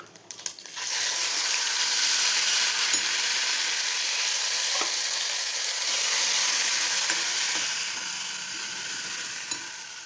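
Loud, continuous sizzling from ground spice paste frying in a pan over crackling cumin and mustard seeds, a dense hiss with occasional small pops and scrapes, no voices.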